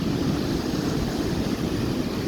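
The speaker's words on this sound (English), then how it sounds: "You see still high waves." Heavy surf on an exposed beach after a storm, with a clay embankment where the sand has washed away, gives a steady, loud broadband rush of breaking waves and wind with no break across the whole stretch.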